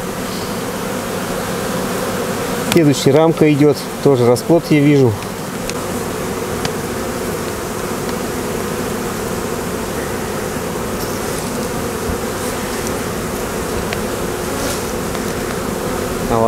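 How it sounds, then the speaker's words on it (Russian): Honey bees swarm loudly around an open hive as brood frames are moved from a swarm trap into the hive, a dense continuous buzz throughout, with someone speaking briefly over it near the start. "Вон пчелы с пыльцой у нас тут сидят"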